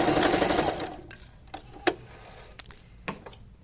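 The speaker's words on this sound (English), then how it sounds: "you want to make sure you're sewing right along that very edge. Alright, so when you get to the end, don't forget to backstitch" Sewing machine stitches a side seam, a fast buzzing run at the start, then short bursts and clicks as it backstitches, close and clear with no talk.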